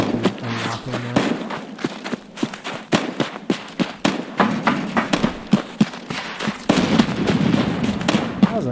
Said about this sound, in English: That was a nade.